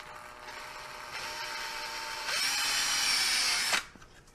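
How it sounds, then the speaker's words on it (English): A handheld power drill bores holes into a spaceship panel prop, its motor whining steadily and then rising in pitch and loudness as the bit bites before stopping, close up with no talk. "I'm just going to use a drill and a drill bit."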